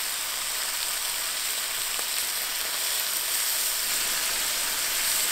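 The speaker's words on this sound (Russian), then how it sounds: "Не сильно жарим." Lamb fries in a pot over strong heat for plov, giving a steady, even hiss of sizzling fat that holds at the same level throughout.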